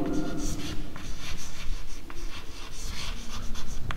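Marker or chalk writing on a board in a chemistry class, a steady run of scratchy squeaking strokes with short pauses, close and fairly loud, with no talk over it.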